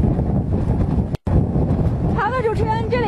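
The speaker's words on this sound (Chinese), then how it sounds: "那么现在我们现场感觉到这个风力已经大的人站不起来了，会随时会被刮跑" Strong typhoon wind roars across the port at Shenquan town, Huilai county, Guangdong, as a steady, loud buffeting rush on the microphone, with a voice talking over it.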